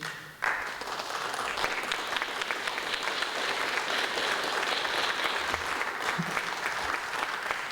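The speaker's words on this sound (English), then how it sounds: "So Baljit Singh, please give him a wonderful round of applause." An audience at an Indian classical music and dance festival breaks into sustained applause for a tabla player, a dense wash of clapping that continues steadily without pause.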